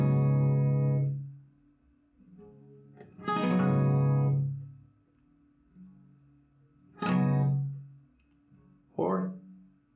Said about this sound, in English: You can practice that movement without holding the chord, like this.